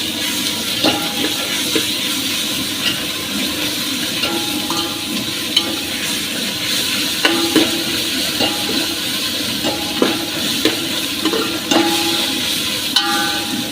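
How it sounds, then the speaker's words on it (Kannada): Ginger garlic paste stirred into well-fried onions in a pan for Muslim-style ghee rice makes a steady close sizzle throughout, punctuated by occasional scraping taps of the spoon. "ಇದಕ್ಕೀಗ ಜಿಂಜರ್ ಗಾರ್ಲಿಕ್ ಪೇಸ್ಟ್ ಹಾಕೋಣ. ಚೆನ್ನಾಗಿ ಮಿಕ್ಸ್ ಮಾಡ್ಕೋಬೇಕು."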